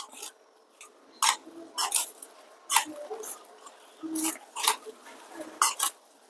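Sautéed onions are mixed by hand into marinated chicken for biryani: soft wet squishes and squelches arrive in short bursts roughly every second, close and quiet, with brief utensil clinks between them.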